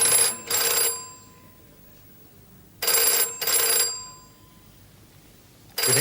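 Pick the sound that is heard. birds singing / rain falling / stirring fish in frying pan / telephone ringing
telephone ringing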